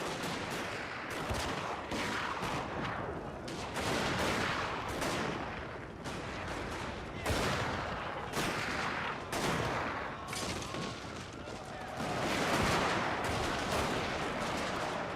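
Troops fire dense, crackling volleys of gunfire in a siege battle in the Total War: Fall of the Samurai video game, with overlapping shots rolling on steadily at moderate volume and no talk.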